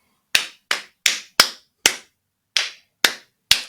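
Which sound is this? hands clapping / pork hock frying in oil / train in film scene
hands clapping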